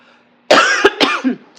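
A short burst of coughing close by, a few harsh rough bursts in quick succession, then silence.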